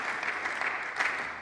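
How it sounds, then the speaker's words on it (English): A gathering at a peacemaker awards ceremony breaks into applause, a brief, moderately loud patter of many hands clapping with no talking. "George Regas, James Lawson, yeah, let's clap"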